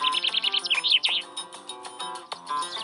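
Birds sing and chirp in quick bright trills, several calls overlapping in a lively close chorus at the start, then thinning into scattered chirps over a soft background.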